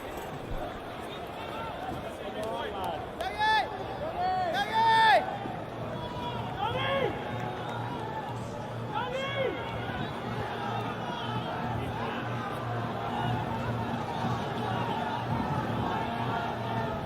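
A cricket crowd murmurs steadily at an Ireland versus Bangladesh one-day international, a broad even hum of chatter and cheering with a few whistles rising above it, while a commentator talks over it.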